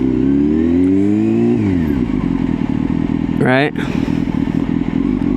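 A motorcycle cruising along while the rider feathers the rear brake, its engine note steady and loud, then dipping and rising briefly near the end, with someone talking over it throughout.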